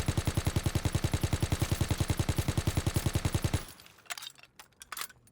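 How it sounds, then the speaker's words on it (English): Automatic gunfire in Call of Duty WW2 rattles in a fast, steady burst of evenly spaced loud shots for over three seconds, then stops, followed by a few faint clicks and clatters. "we're going to squeeze the trigger, pulling down slightly and strafing right to left"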